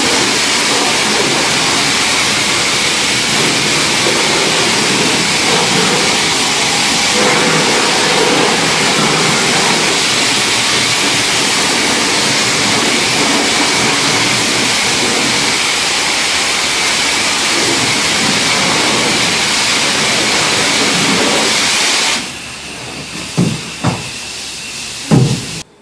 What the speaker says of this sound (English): now I've done the part where I took it to the car wash and washed it off really well